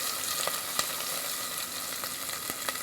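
Lengthwise-cut onions sizzle in a hot pan over medium-high heat for a vegan banana-peel curry, a loud continuous frying hiss with a few soft stirring taps.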